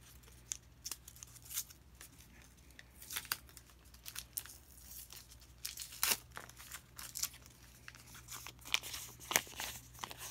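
Tape is peeled and pulled off a few holed silver Mercury dimes, giving close, scattered crinkling rips and sharp tearing snaps with short pauses between, over a low steady hum.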